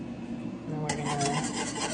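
Chicken Alfredo ingredients being mixed together in a container, a close raspy scraping and rubbing that starts after a brief quieter moment and keeps going steadily.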